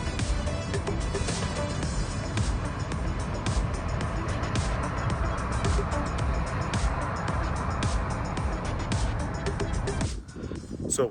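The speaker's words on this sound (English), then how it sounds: "we are just driving around in the mountains in the heart of the island here" Steady, close engine drone and road rumble from a car driving through the mountains of Gran Canaria, continuous throughout before a brief dip near the end.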